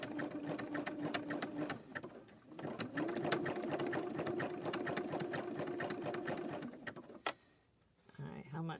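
A Baby Lock sewing machine stitching a thick rope bowl, with rapid rhythmic needle clatter and a whirring motor in two long runs, briefly pausing between them and stopping near the end, with a voice talking over it.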